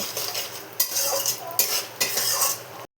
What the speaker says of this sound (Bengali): এখন ভালো করে মশলাটা কষিয়ে নেব।